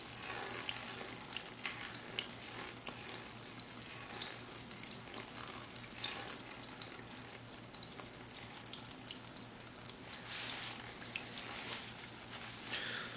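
Water flows steadily through a stream table model of a meandering river channel, a continuous close trickling and splashing like a running tap, with no speech.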